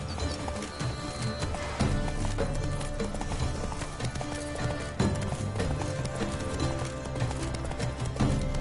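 Roach, Geralt's horse in The Witcher 3: Blood and Wine, clip-clops along at a steady trotting rhythm, hoofbeats close and clear over ambient game background.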